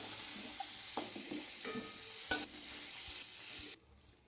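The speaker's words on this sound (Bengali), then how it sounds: "বাকি সবজিগুলো ভেজে নেব" Mixed vegetables for labra frying in a kadai, a soft steady sizzle broken by intermittent clinks and scrapes of stirring, which fades to near quiet at the end.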